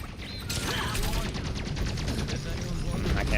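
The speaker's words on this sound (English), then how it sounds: "Rocket barrage incoming." A rocket barrage in a video game lands as a rapid, rattling string of blasts, loud and continuous, layered over busy game noise with no let-up.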